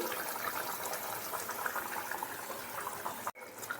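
Mustard oil poured into a pan while cooking Mouri Parshe, a Bengali fennel fish dish, giving a steady broadband liquid hiss and sizzle that runs loud and continuous before cutting off abruptly near the end.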